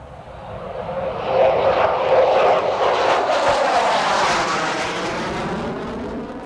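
A Colorado Air National Guard fighter jet of the 120th Tactical Fighter Squadron flies during the 1984 Sentry Aspen Flag exercise, a loud, close roar with sweeping tones that swells, then slowly fades.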